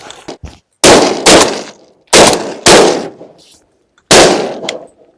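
Shotguns fire during a Florida duck hunt: five loud, close blasts arrive in pairs and singles, each with a sharp crack and a trailing echo, with brief silences between them.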